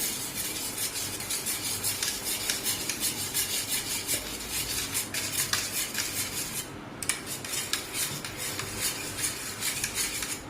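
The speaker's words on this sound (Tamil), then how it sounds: "இதை போட்டு இதை நல்லா கலந்துருங்க. அப்படி இந்த மத்தை வச்சு இப்படி பண்ணிடுங்க." Yogurt mixture is churned with a wooden mathu in a bowl for Punjabi-style dahi bhalla, giving steady scraping and rubbing with clinking against the vessel, close and continuous throughout with a short pause near the middle.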